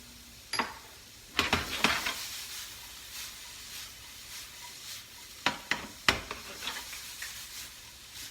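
Vegetables cooking briefly in a pan, quiet hiss punctuated by clusters of sharp utensil scrapes and clinks against the pan.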